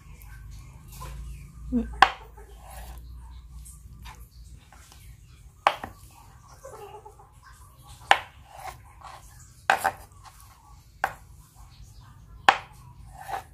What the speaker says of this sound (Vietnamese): Mình cắt ra làm tư các bạn để chúng ta dễ chiên hơn nha